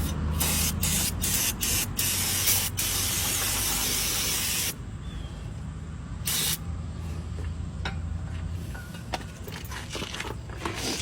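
A loud, sustained hiss of an aerosol can spraying greasy brake parts on a 2004 GMC Yukon for several seconds, then several shorter bursts and clicks with quieter rustling between them.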